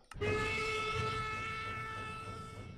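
A steam train whistle blows in a SteamCraft game mod, a steady multi-toned harmonic blast that starts abruptly and holds loud for nearly three seconds over a low chugging rumble.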